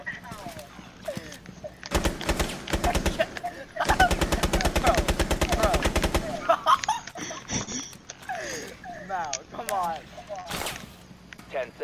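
Rapid automatic gunfire in a shooter video game comes in two long, loud bursts, with scattered single shots after them, while players talk and laugh excitedly over the action.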